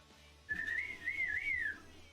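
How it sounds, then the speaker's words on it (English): A single whistling vocal tic sounds close up, one wavering whistle lasting just over a second, heard alone against a quiet room. "My whistle tick keeps on evolving"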